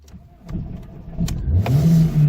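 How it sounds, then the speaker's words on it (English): A 5-seat hatchback car's engine is started with the key, close up: a short cranking whirr rises and settles into a running engine tone. "let's give it a key and see if it starts"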